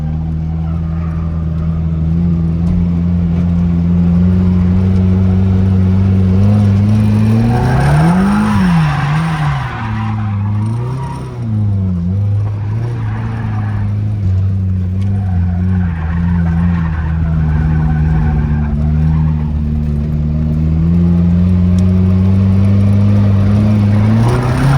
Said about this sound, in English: give it a little bit more throttle to try to keep it drifting